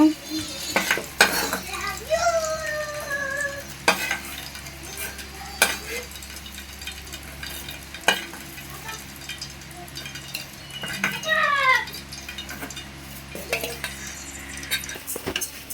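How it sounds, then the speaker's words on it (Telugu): A spoon stirs ingredients frying in a pan for a tomato-prawn dish, with a steady sizzle under repeated scraping and clinking strokes that come in bursts, close and fairly loud. "చూడండి, మనకి చక్క ఇలా వేపుకోవాలి, దోరగా చూసుకోవాలి ఒకసారి."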